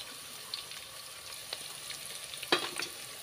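Onion, ginger and garlic sautéing in a pan, a steady soft sizzle with occasional louder pops and spatula stirs, no voices.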